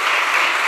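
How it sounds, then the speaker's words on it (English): Brief burst of audience applause at an evening talk show gathering for a Guru Purnima celebration, dense and even clapping from a crowd, loud and close, with no talking. "Can we have a big round of applause?"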